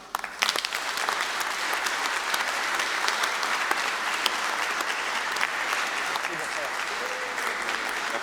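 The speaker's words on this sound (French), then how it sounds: "on applaudit tous ceux qui ont préparé" A crowd claps at a Catholic mass for an altar dedication, steady and fairly distant, with a few sharper claps near the start and voices faintly mixed in under it.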